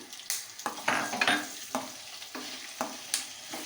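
Raw potato pieces frying in hot oil for sabudana khichdi, stirred with a spatula: a steady close sizzle broken by repeated scraping strokes against the pan, several distinct stirs at an uneven rhythm.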